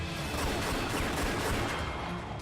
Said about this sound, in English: Cyrus started rapidly firing his handgun. The sound of gunfire made the shady men all jump behind cover.